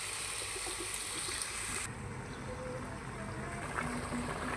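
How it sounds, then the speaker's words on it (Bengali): Water poured into a pan of sautéed potato and flat beans for a puti fish curry, a continuous splashing trickle and hiss that changes tone midway, close and steady, without talk. "এখন ঝোলের পানি দিয়ে দেব।"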